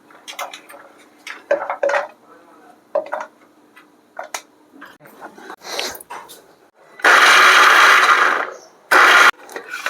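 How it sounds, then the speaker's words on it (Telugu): Garlic cloves clink and rattle into a metal mixer jar, then the mixer grinds loudly in two short bursts. "నేనైతే ఇలాగా మిక్సీ గిన్నెలో వేసుకుంటున్నాను"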